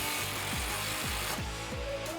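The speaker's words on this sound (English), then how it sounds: "rotate your clamp up into position and tighten that down" An exhaust clamp being tightened on a RAM 1500 5.7L Flowmaster Outlaw exhaust, likely with a power tool, as repeated rhythmic ratcheting pulses over a constant loud whirr, close up.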